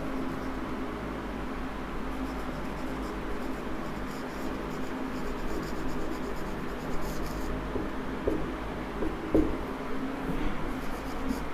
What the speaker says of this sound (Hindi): तो यहां लिख रहा हूं